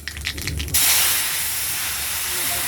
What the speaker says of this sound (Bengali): এই যে কালো জিরা ফোড়ন দিয়ে বসিয়ে দিচ্ছি